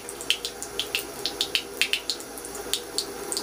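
Water runs from a tap at a grandmother's home while a thirsty cat is around, a steady splashing stream with rhythmic bright drips and gurgles, close and continuous.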